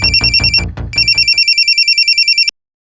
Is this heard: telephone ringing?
yes